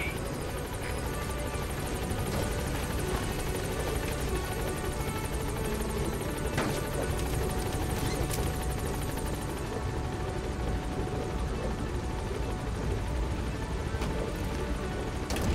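Pequod, the transport helicopter in Metal Gear Solid V: The Phantom Pain, hovers at the landing zone with a loud, steady rotor roar and engine whine that fills the whole stretch without a break.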